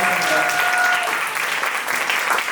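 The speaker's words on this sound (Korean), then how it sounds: "강사님께 다시 한번 뜨거운 박수 부탁드리겠습니다" An audience at a lecture gives the instructor a dense, steady round of applause filling the room, with a faint voice briefly underneath.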